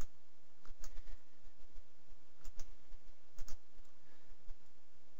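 Computer mouse clicks tick out in small irregular clusters, close and fairly faint over a quiet background hiss while a project is set up in a programming environment.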